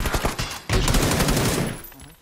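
Gunfire rattles in a shooter video game, rapid bursts of shots followed by a dense, sustained volley that fades toward the end, loud and close.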